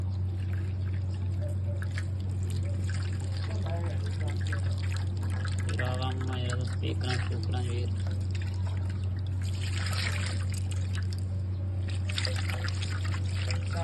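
Water is poured over a mobile phone to wash it, a steady trickling splash running under ongoing talk with a constant low hum beneath.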